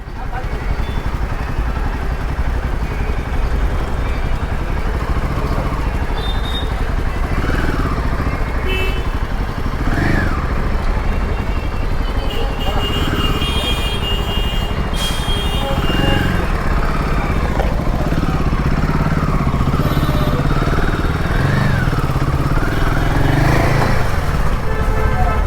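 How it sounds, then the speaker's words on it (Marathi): Heavy road traffic in Mumbai rain, with motorcycles and cars revving and passing close by in a continuous loud din, while people talk throughout. "अरे बहुत ट्रॅफिक आहे"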